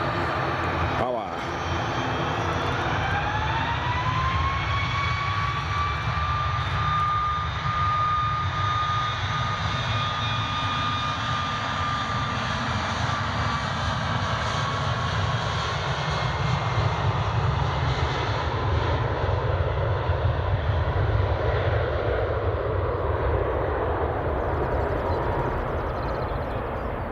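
An aircraft makes an intersection takeoff at Edinburgh Airport, its engines spooling up to a loud, rising whine over a deep roar that swells and then slowly fades as it climbs away, with someone talking over it.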